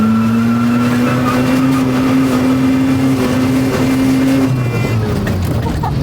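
A car engine drones loud and steady at close range while the driver attempts to drift, holding a sustained tone that drops in pitch near the end, with faint voices underneath.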